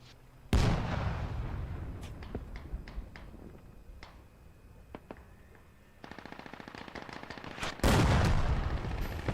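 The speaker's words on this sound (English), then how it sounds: "They are just lobbing some shells over here." Battlefield fire in a multiplayer war video game: loud explosive booms open and close the passage, framing sharp distant gunshot cracks and a rapid burst of machine-gun fire, with no voices.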